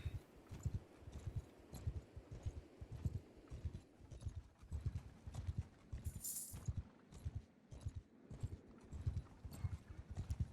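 Horse hooves clip-clop in a steady, even rhythm of close, muffled thuds in Mount & Blade II Bannerlord, heard alone without speech.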